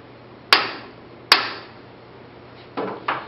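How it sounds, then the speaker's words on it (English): A hammer raps the head of a locking bolt on a pipe clamp: two sharp metallic strikes about a second apart, then two softer taps, close and clear against a quiet background. "you want to wrap the head of the bolt with a hammer"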